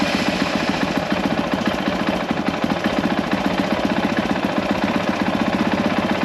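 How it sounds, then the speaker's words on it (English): A Honda dirt bike engine, from a group including CRF 450R, 110F and 50F models, runs steadily with a loud, rapid, even chugging pulse close by, with no voices over it. "Let me start it up here for you and I'll show you the tack."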